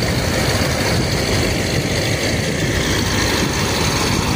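Trawler boat engines on the Turag river, a loud, steady low diesel drone running unbroken throughout with no talking.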